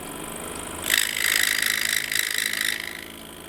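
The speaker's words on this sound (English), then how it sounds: "So that sound was us cutting into our blade" A scroll saw blade cuts forward into a piece of wood, a bright rasping burst of roughly two seconds rising over the tool's steady motor hum, then falling away.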